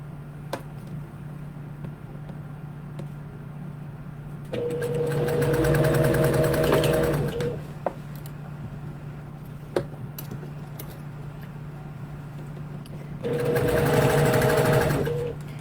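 A sewing machine stitches along a folded fabric hem in two loud bursts of rapid motor-driven stitching, each lasting about three seconds, separated by quiet pauses with a steady hum and faint clicks.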